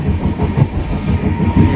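A moving passenger train rumbles steadily from inside the carriage, with a deep rolling roar and a faint uneven rhythmic clatter underneath. It is loud and continuous, with no voices.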